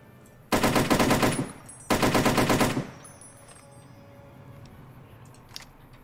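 Two long bursts of rapid automatic fire from an FN FAL rifle in Fallout New Vegas, each lasting about a second, loud and close, followed by a quiet tail.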